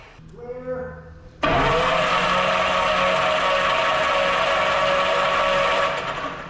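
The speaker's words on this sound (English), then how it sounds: "We got both engines turning over." Piston engines on a large, rare 800 hp airplane cranking over, a whirring starter winding up briefly, then a loud, steady mechanical roar that holds for several seconds before easing off slightly.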